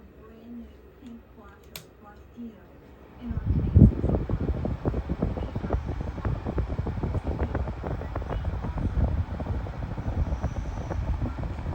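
A Honeywell HT-908 table fan runs close by after switching on partway through, its quiet background giving way to a steady, breathy whoosh of moving air that continues at an even level to the end.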